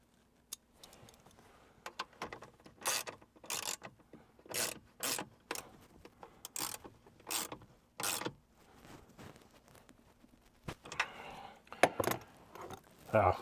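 Tools clicking and ratcheting as a bolt is tightened while installing an anti-theft hood lock on a Jeep JL/JT, with sharp intermittent metallic clicks and rattles close by, some quiet talk in between.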